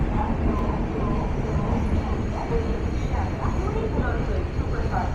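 A train runs at over 100 km/h, a dense continuous rumble and rattle of wheels and carriages heard from inside, loud and unbroken throughout.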